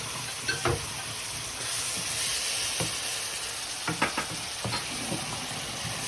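Tomatoes sizzle and fry in a hot pan, a steady broadband hiss with scattered clicks and a few sharp stirring knocks against the pan, heard close with no talking.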